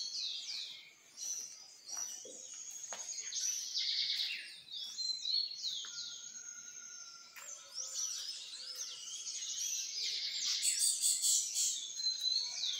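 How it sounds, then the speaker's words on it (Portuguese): Many small birds chirp and twitter continuously at once, a bright overlapping chorus of quick high calls with no talking. "passarinho demais"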